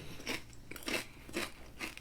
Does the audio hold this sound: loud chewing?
yes